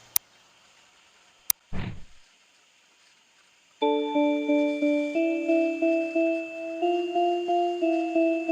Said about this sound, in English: On the third pattern, I have the bell.